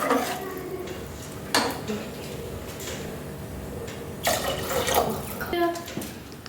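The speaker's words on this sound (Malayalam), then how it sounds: "അപ്പോൾ അതിന് വേണ്ടിയുള്ള വെള്ളം ഒഴിച്ച് കൊടുക്കണം" Water poured into a pot of soaked biryani rice, with a splashing rush midway alongside clinks and clatters of pots and utensils in a home kitchen.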